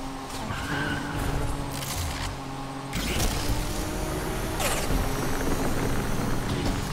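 A car in the racing game Need for Speed Unbound drives hard, its engine droning with tires squealing and skidding through turns, loud and continuous with shifting surges.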